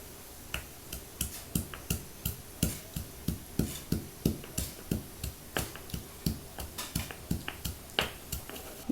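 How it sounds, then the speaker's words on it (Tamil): Roasted black pepper and cumin are pounded by hand in a mortar. Around thirty sharp, evenly paced knocks sound close and fairly loud, with no talking. "இப்போ நம்ம வறுத்து வச்சுருக்கிறதெல்லாம் இதில் போட்டு இடிச்சிக்கலாம்"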